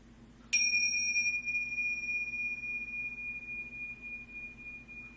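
A single bright bell strike rings out, then a clear sustained tone slowly fades over several seconds in a quiet room.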